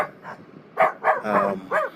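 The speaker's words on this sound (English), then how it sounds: "Got a little guard dog." Small guard dog barking at a property in Grenada: a short burst of five or six yappy, close barks, fairly loud, with no talking over them.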